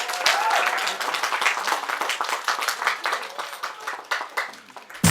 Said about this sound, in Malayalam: കൈയടിച്ചേ.